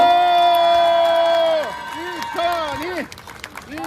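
Crowd cheering and clapping at an outdoor Korean political campaign rally in Jongno, Seoul, with loud voices and whoops rising over the applause, then fading into scattered shouts.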